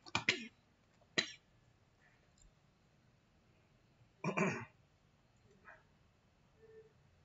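A few sharp coughs and throat clearings sound close by in a quiet room, one burst at the start, another about a second later and a stronger fit around four seconds, with faint voice sounds between.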